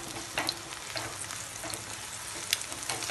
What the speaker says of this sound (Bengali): এভাবে হালকা নাড়িয়ে নাড়িয়ে ডিমের টুকরোগুলো একটু বড় বড় রাখবো